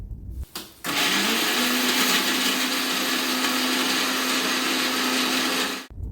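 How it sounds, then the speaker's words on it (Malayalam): A mixer grinder grinds coconut, shallots and green chillies into a paste with no water, starting abruptly and running at a steady loud whine for several seconds before stopping. "കുറച്ച് തേങ്ങ എടുത്ത് അതിൽ 2 ചെറിയുള്ളിയും എരിവിന് വേണ്ടിയിട്ട് 1-2 പച്ചമുളകും കുറച്ച് മഞ്ഞൾപ്പൊടിയും ജീരകപ്പൊടിയും ചേർത്ത് വെള്ളം ചേർക്കാതെ ഒന്ന് പറ്റ അരച്ചെടുക്കാം."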